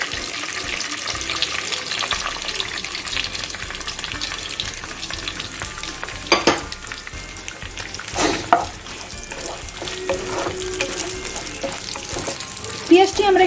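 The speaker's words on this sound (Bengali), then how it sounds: "পেঁয়াজটি আমরা একটু লাল লাল করে ভেজে নেব।" Chopped onions frying in a pan for a paneer dish, a close, continuous sizzle punctuated by a few sharp clanks and scrapes of a spatula stirring.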